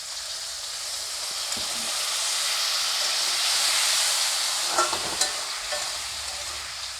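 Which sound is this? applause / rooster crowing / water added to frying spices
water added to frying spices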